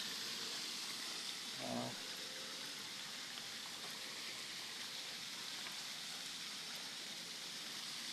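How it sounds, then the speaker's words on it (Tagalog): Water falls from above into a clear resort pool, a steady, soft splashing hiss that continues evenly, with a brief brighter splash near the start. "Bumabagsak ang tubig galing sa taas"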